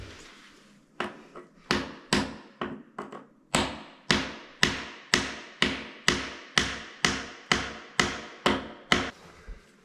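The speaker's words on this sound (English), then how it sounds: "I used a piece of wood to hammer it in from here." A plumbing part being hammered into place with a piece of wood: about fifteen sharp, resonant knocks in a steady, slightly uneven rhythm, each ringing briefly, close and loud with no talking.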